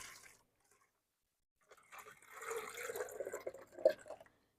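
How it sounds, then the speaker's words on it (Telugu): Water splashes and trickles into a plastic bottle hung in a basket as a fruit-fly trap, a short burst followed by a longer gurgling pour at moderate loudness after a near-silent gap. "నేను ఈ వాటర్ని నేను ఇప్పుడు ఈ బాటిల్లో వేస్తున్నాను"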